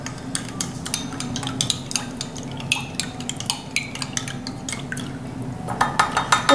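A utensil stirs and clinks against a bowl while mixing a sesame chicken sauce of vinegar, peanut oil and water, with repeated sharp taps and wet swishes, close and growing busier toward the end, no talk.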